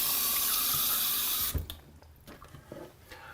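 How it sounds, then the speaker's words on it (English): Tap water runs steadily into a kitchen sink as red peppers are rinsed, a close, bright hiss that stops abruptly partway through, followed by a few soft splashes and handling sounds. "let me do a quick rinse on this"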